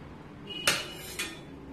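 Homemade omelette set onto a plate, two quick clinks of utensil against dish, the first sharper and the second softer, close and quiet with no talking.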